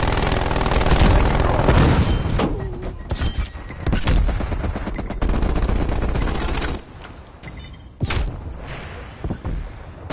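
A hostile sentry turret in a video game fires loud, rapid bursts of automatic gunfire with heavy booming impacts, nearly continuous and then broken by short pauses and sharp single shots.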